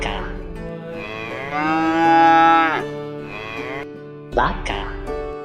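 A domestic cow gives one long, loud, low moo close by, rising and swelling in the middle before a second shorter call begins near the end. No voices.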